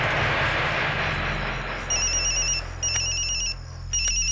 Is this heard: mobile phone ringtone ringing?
yes